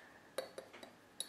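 Salmon filling stirred with curry powder in a bowl, a quick series of close, light clinks and taps from a utensil against the bowl, with no talking.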